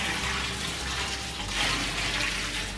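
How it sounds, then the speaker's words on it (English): Hot water pours through Camembert cheese curds in a continuous splashing stream that swells slightly midway, with no talk over it. "pour our hot water through, and I'll repeat that another couple of times"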